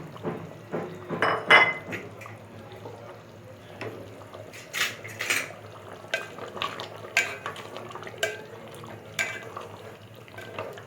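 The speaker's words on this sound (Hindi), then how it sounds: "अब मैं इसमें बॉयल अंडे फ्राई किए हुए डाल देती हूँ।" Fried boiled eggs go into a pot of potato curry: a series of clinks and scrapes of a utensil against the metal pot, with soft wet stirring between the knocks, close and moderately loud.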